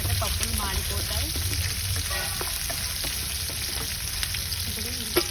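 Onions and lentils frying in a pan over a low flame, a continuous bright sizzle with light crackles and the occasional soft scrape of stirring, close by and steady throughout.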